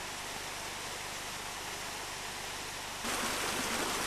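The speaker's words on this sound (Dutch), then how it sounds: "Weer een watervalletje." Small waterfall and stream in Mauritius, a dense continuous rushing and splashing of water up close, steady throughout and growing slightly louder and brighter near the end, with no voices.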